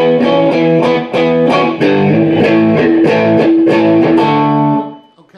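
An electric guitar with effects and distortion plays the second measure of a song as a steady run of chugging, repeated chord stabs, the last one held and fading; loud, close and alone.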